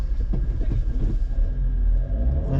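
Car engine in a dune race rumbles low and revs up after a gear change, a loud close throaty drone that swells and holds with a brief dip near the end, no clear speech.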